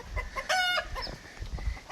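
Chickens cluck and a rooster gives a brief crowing call at a backyard flock kept alongside quail, faint and close-ish amid scattered low rustling.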